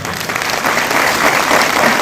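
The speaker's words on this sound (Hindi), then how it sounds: "मैं चाहूंगा प्रवीण सर के लिए एक जोरदार ताली।" Loud, dense applause from a crowd, sustained clapping throughout with no break.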